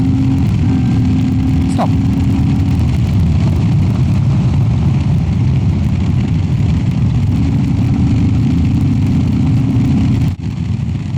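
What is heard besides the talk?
Royal Enfield Classic 350 accelerating, FuelX Lite and DNA filter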